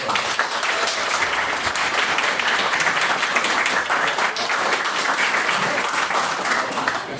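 An audience claps steadily for debaters at a Halloween debate, with sustained, fairly loud applause filling the whole stretch without a break.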